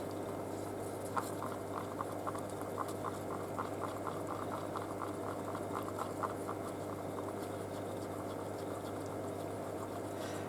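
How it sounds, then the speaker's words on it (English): Art resin stirred in a cup, a steady soft scraping and tapping pattern of close, quiet strokes over a constant low background hum, with no talking. "Give it a good stir."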